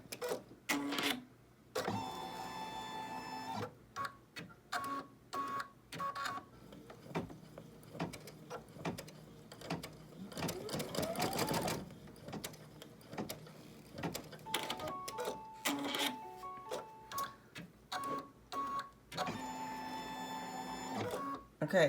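A home embroidery machine sews two small placement stitches for an in-the-hoop stocking with ribbon, giving short bursts of rapid mechanical whirring and clatter, near and moderately loud, broken by pauses and quiet handling noises.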